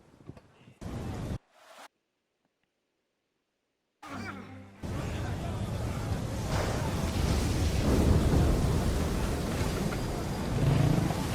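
Stormy seas in the video game Assassin's Creed 3, with a dense, roaring wash of wind and crashing waves building steadily and loudly after a short burst and a moment of silence.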